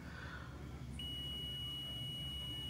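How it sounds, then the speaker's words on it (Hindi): Multimeter continuity tester sounds a steady high-pitched beep while probing a shorted transistor in an Ahuja 250 watt amplifier, starting partway through and holding alone over a quiet hiss. "यहाँ पे शॉर्टिंग बता रहा है, यानी कि बीप की आवाज़ आ रहा है इसमें"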